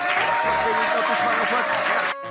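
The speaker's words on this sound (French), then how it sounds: "Applaudissements pour lui." Studio audience applause greets guest Jordan Bardella on a French evening talk show, a steady dense patter lasting about two seconds under faint talk before cutting off abruptly.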